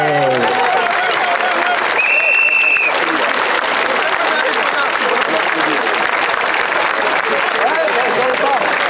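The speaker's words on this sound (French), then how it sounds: "Donc je pense qu'on peut s'applaudir parce qu'il y a vraiment du monde." An outdoor protest crowd in Saint-Brieuc, marching against the health pass, breaks into sustained applause, a thick, even wash of many hands that carries on without pause after a voice trails off at the start.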